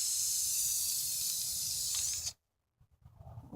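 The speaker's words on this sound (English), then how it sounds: "I've finished spraying most of the stand underneath and right side up" Aerosol spray paint hisses steadily onto a wrought iron stand, a loud continuous spray for about two seconds, then cuts off abruptly into silence before faint handling noises return.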